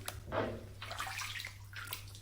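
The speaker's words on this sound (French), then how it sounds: "un jet d'eau" Water jet running into a bathtub to fill it for a bubble bath, a steady rushing splash with bursts of sloshing, alone with a low hum beneath.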